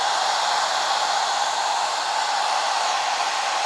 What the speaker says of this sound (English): hold the dryer about 3 inches or so away from your project. Blow dry this